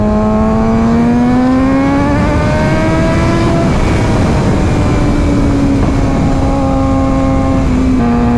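A Suzuki GSX-R600 sport bike's inline engine drones at high revs on the road, a loud, sustained tone that climbs steadily, dips during a gear change, then pulls up again amid heavy wind rush.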